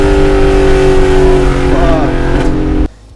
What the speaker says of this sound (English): It screams. It's a high revving V8.